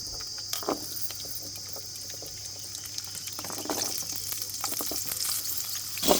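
Onions fry in a pan with a soft, steady sizzle and repeated scraping stirs, moderately close and fairly quiet, while a country chicken broth is being prepared.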